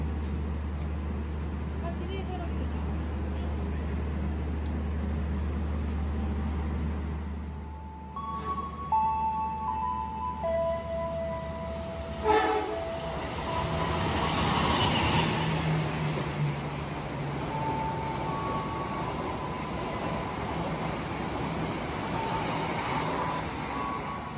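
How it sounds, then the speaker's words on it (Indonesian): Menoreh passenger train running through Haur Gelis station without stopping, a long sustained rumble and rush of wheels on track that builds and holds, with brief tonal squeals and a voice talking. "itu adalah kereta api menoreh dari Pasar Senen menuju ke Semarang Tawang, berjalan langsung di stasiun Haur Gelis"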